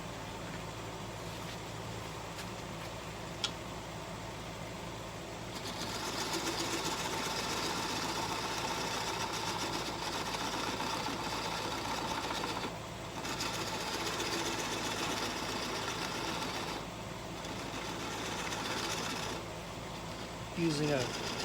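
A wood lathe spins at reduced speed while the bottom of a turning is worked with a 3/8 inch detail gouge, giving a steady, fairly quiet whirring hum with rougher stretches of cutting noise throughout.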